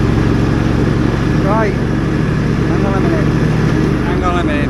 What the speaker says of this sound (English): Let me turn the engine off.